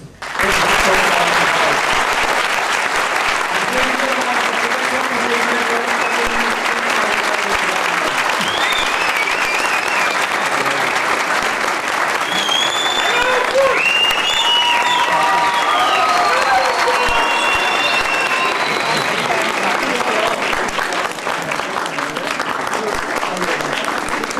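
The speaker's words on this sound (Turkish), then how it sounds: "Şu an için sizi sadece alkışlıyoruz ve önünüze saygıyla eğiliyoruz" Theatre audience giving sustained, loud applause after a stage performance in Çanakkale, a dense continuous roar of many hands lasting over twenty seconds, with scattered voices and whistles mixed in.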